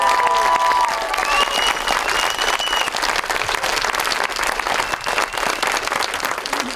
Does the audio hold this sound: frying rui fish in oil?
no